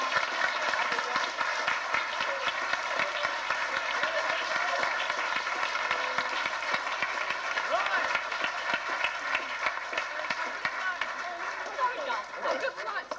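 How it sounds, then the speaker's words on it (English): Steady, sustained applause from a large church pantomime audience for the cast and producer, dense clapping with a faint murmur of voices underneath, continuing without a break. "we should give all the cast and the producer a rousing round of applause"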